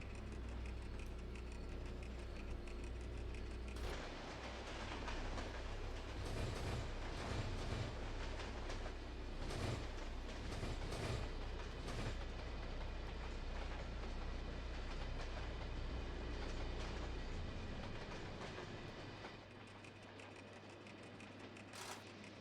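An electric train in Trainz 22 runs under power with its pantograph raised, producing a continuous rumbling roll with rhythmic clickety-clack wheel beats that fade somewhat near the end.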